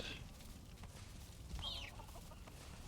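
Chickens in the video game Valheim, near a bog egg farm: soft, fairly distant clucking in a couple of short bursts over a low ambient background.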